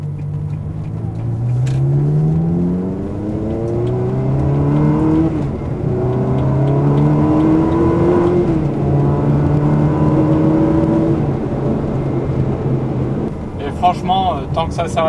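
A Ferrari 360 Modena engine revs loudly and close, pitch climbing and falling through several sweeps before settling, with a brief clatter near the end.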